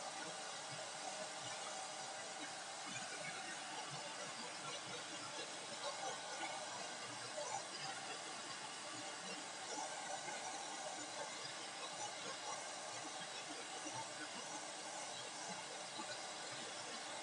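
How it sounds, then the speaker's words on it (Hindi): A hair dryer blows on a decoupage craft piece, giving a continuous broad airy hiss and whir that stays steady and fairly close for the whole stretch, with no talking. "मैं ड्रायर चलाने लगी प्लीज।"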